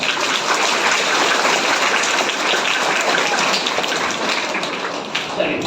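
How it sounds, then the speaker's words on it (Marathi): Dense, loud, continuous clapping from a group of children at a summer camp, a steady wash of many hands with a few scattered voices mixed in. "आपण जोरदार सर्व आपल्या स्वतःसाठी टाळ्या वाजवूया."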